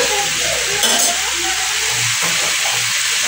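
Potato and radish frying with mustard in a pan give a steady, loud hiss and sizzle throughout, with occasional soft scraping or stirring knocks beneath.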